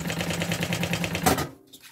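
A sewing machine stitches a fabric lining to the bottom of a baby's diaper bag, giving a fast, steady mechanical chatter that runs close up for over a second and then stops abruptly.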